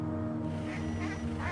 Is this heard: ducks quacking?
yes